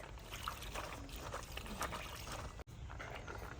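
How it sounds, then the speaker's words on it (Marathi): Soaked chickpeas being rinsed in clean water, a quiet, continuous trickle and swish of water with a brief dropout near the end. "छोले आता आपण स्वच्छ पाण्याने धुवून घेणार आहोत"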